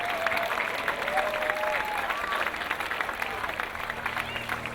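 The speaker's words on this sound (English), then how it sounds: "Another round of applause for their commitment" A crowd at an outdoor pre-game tailgate party keeps up steady, moderately distant applause, with faint voices mixed in.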